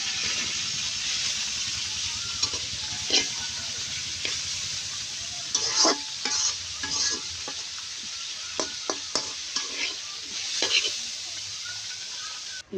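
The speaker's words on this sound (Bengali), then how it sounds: "এখন আমি লাউয়ের শাক ভাজি করছি।" Bottle gourd greens fry in a pan with a steady hiss of sizzling, broken by repeated scraping stirs and clinks. A voice talks briefly in the background.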